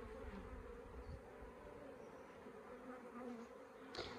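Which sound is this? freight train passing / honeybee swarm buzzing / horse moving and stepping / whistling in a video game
honeybee swarm buzzing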